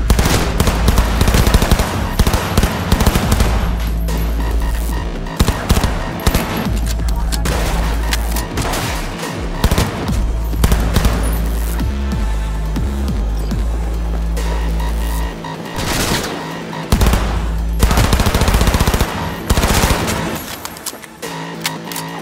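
Iconic weapon fired in Cyberpunk 2077, a gun prone to setting targets burning: loud, sustained automatic bursts with dense, rapid shots and a low throbbing hum beneath, pausing briefly between volleys.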